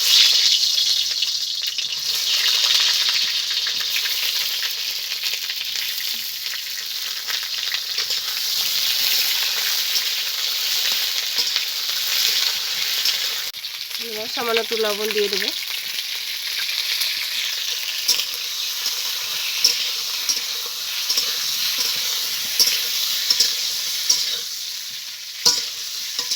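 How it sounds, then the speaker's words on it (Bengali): Pointed gourd (potol) frying in hot mustard oil in a kadai, a steady broadband sizzle with stirring scrapes throughout and a brief voice speaking midway. "আমি পটলটাকে ভেজে নেবো"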